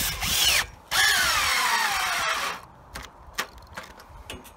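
A power drill drives a screw into a bracket hole, whining loud for two short runs, the second longer and slowing in pitch, then a few small clicks and taps.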